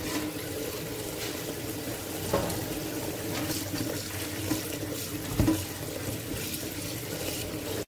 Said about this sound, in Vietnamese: Mình sẽ xả nước lạnh để cho cái sợi bún của mình nó dai hơn